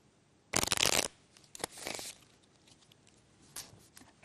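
A magic-trick deck of playing cards is riffle shuffled a second time, giving a loud close burst of rapid fluttering cards, then a shorter riffle and a few lighter taps as the deck is squared, with no talking.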